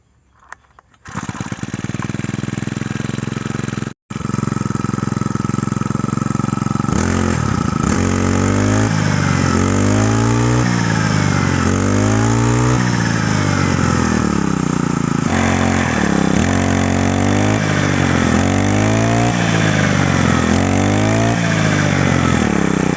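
A small Chinese four-stroke brush cutter engine fitted with a 16-inch blade starts up, idles, then revs repeatedly in rising and falling surges, loud and close, running continuously with no voices.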